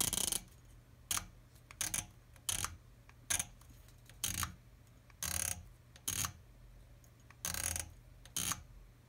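An Athlon Ares ETR riflescope elevation turret is turned toward its zero stop, giving about a dozen crisp, close metallic clicks at uneven intervals with quiet gaps between them.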